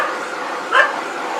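A dog barks once in the distance, a single short yip rising briefly over a steady background hum, with no voices present.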